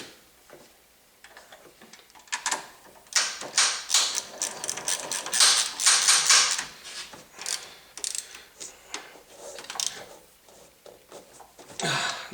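A ratchet wrench with a 12mm socket bolting an engine damper bracket onto a G35, heard up close as bursts of quick ratcheting clicks with short pauses between strokes.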